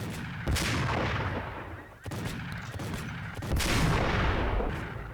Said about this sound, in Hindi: मैं इसको स्नाइपर से यहाँ से ठोकने की कोशिश करता हूँ।